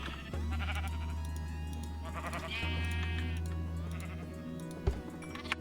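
Several sheep in the video game Minecraft bleat in overlapping calls, close and fairly loud, over a steady low background hum.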